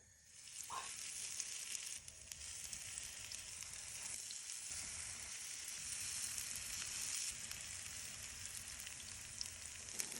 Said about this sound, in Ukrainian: чутно ще оладки смажаться